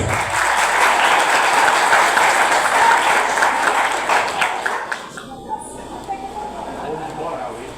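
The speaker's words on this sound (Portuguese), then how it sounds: "Salve de palmas, gente." A crowd claps steadily for several seconds for a speaker after a talk, then the applause fades into scattered claps and quieter room noise.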